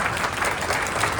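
An audience at a chamber of commerce honors award program applauds for Liz Hartman, a dense and steady wash of clapping from a large crowd heard briefly at full strength.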